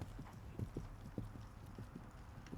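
A horse trots with rhythmic clip-clop hoofbeats, evenly spaced and fairly close, steady throughout the short stretch with a faint background hum and no talking.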